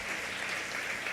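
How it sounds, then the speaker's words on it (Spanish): A church congregation claps loudly in praise, a brief, steady burst of dense applause filling the room. "¿Cuántos le dan un aplauso fuerte a Dios?"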